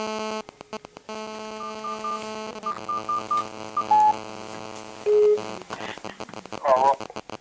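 Telephone number dialed on a phone keypad in an office setting, a quick run of distinct DTMF beeps in an uneven rhythm, close and clear, with brief pauses between presses and longer tones near the end.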